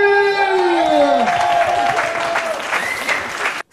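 An audience under a guinguette tent in Cergy bursts into loud, sustained applause and cheering as a slam poet is introduced. Fading musical tones sit beneath the clapping at the start, and the noise continues steadily until it cuts off abruptly.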